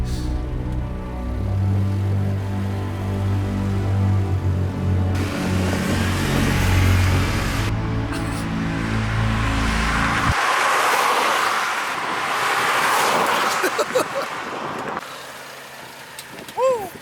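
A miniature turbocharged Mitsubishi engine with a column shift is revved hard toward 7,000 RPM, loud and near, a steady mechanical roar climbing over the drone, while people talk excitedly over it.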